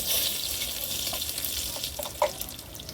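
Curry leaves dropped into hot oil with asafoetida for tempering on a wood-fired stove give off a steady, bright sizzling hiss with a few small pops near the end.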